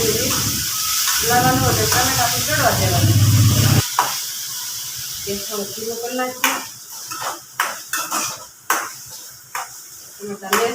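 Tomatoes cook in a pan with onions for onion khariyu, hissing and sizzling steadily while someone talks, then a spoon scrapes and clinks against the pan in irregular knocks.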